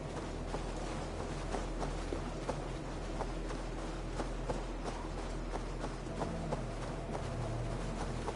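Horse hooves clip-clop at a steady trot in Assassin's Creed Valhalla, a regular run of soft thuds over a constant low game-ambience drone with no voices.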